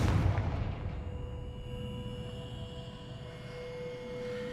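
A Confringo fire spell bursts in Hogwarts Legacy with a deep booming blast at the start, then a low rumbling decay and a lingering tonal hum, fairly faint overall.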